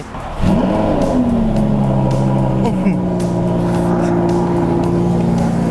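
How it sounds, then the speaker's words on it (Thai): A Lamborghini Huracan V10 engine cold-starts and settles into a loud, deep, steady idle with rising and falling revs, close by, running continuously. "เวลาเจ้าฮูราแคนเนี่ยสตาร์ทเย็นเนี่ยเสียงนี่แบบโอ้โหคำราม เพราะมากๆนะครับ"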